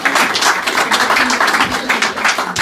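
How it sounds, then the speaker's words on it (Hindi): Crowd clapping fills the hall at a literary felicitation and awards function as a guest is called to the stage, a thick, even patter of applause that stays loud without a break. "तालियां बजाए भी, तालियां।"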